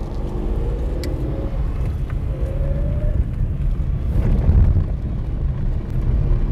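Car rolling along a gravel road near the Vloedbos holiday resort, a steady loud low rumble of tyres and engine filling the whole stretch with no pauses, swelling slightly toward the end.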